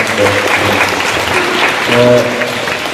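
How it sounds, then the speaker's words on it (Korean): Participants at a school community debate forum applaud a speaker who has just shared an opinion, with steady, dense clapping throughout and a voice faintly audible beneath it. "어렵게 의견을 내주신 박상원 선수 다시 한번 박수 한번 부탁드립니다."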